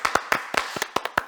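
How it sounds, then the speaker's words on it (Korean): Hands clapping from a church youth group, about seven sharp, fairly evenly spaced claps in quick succession, close and distinct with no talk. "박수 치세요"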